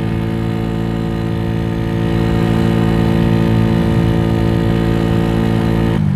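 A Venom X18 motorcycle engine running with 1.5k clutch springs fitted: a loud, steady, close drone with strong even harmonics, rising slightly partway through and holding without a break, no talking.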